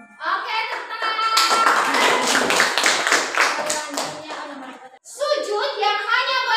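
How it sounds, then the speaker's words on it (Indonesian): A classroom of students claps together during a school lesson, a burst of brisk group clapping lasting a few seconds, with voices speaking just before and again after it. "tepuk tangan"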